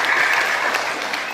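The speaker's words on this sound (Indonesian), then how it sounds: "Tepuk tangan." Steady applause from an audience at a talk about Rocky Gerung, a short burst of dense clapping that stays even throughout.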